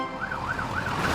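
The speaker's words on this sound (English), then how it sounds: "They're brumming too loud to hear Fiona's siren." A cartoon fire truck's wailing siren rises and falls steadily in smooth repeated sweeps, loud and continuous over a low rumble of engine noise, with no voices.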